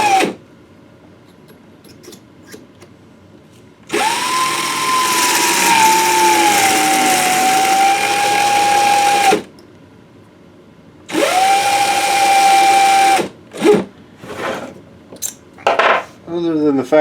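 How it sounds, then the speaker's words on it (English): A cordless drill whirs in two long bursts during rifle case reloading, with a clean steady pitch that sags slightly as the battery runs low. Clicks and handling noises of the brass cases come between the bursts. "my drill's about to die"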